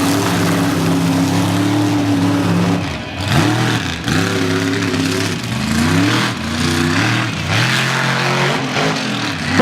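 Reckless, a freestyle mud truck, revs hard at the Iron Horse Mud Ranch. The loud engine climbs and falls in repeated surges, with a brief dip and then more aggressive revving, close and dominant.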